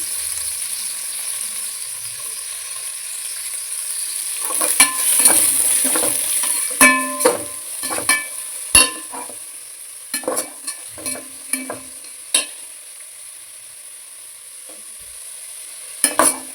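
Onions and green chillies sauté for chicken biryani in an electric cooker. A steady, close sizzle runs under repeated clinks and scrapes of stirring, with no talk.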